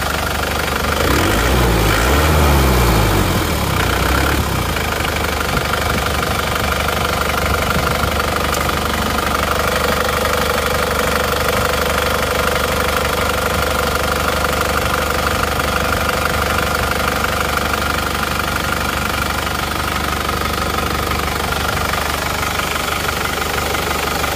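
Isuzu Panther diesel engine with an oil-spraying fault, running steadily with a dense, even clatter; a brief rev-like surge at the start settles into a continuous close idle with no talk.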